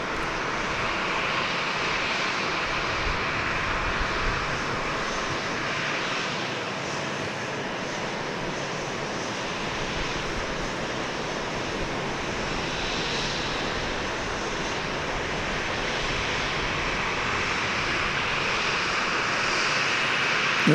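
A Boeing 737 MAX 8 jet at Dallas Love Field gives off a steady, moderately distant engine roar and hiss lasting throughout, fairly even in level with no voices.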